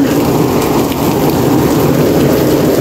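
Heavy rain pours down in a dense, unbroken hiss, loud and close, with no voices.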